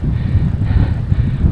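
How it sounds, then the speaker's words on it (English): Heavy wind buffets the microphone during a bike ride with a low, rumbling roar that gusts and thumps continuously. "Holy hell, it's windy."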